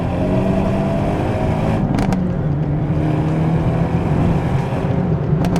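A Hyundai Elantra N tuned past 300 wheel horsepower pulls hard under full throttle, a steady loud engine drone holding its pitch, with brief sharp upper bursts around two seconds and near the end.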